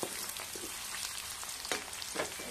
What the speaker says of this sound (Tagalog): Lagyan natin ng mantika. Ayan, gisahin muna natin yung garlic at saka red onion.